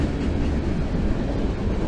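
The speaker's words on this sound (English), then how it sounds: "I'm trying to walk away from the train a little bit until it passes." A train rolls past in Osage City, Kansas, a loud steady low rumble of wheels and wagons filling the whole stretch, close by and unbroken.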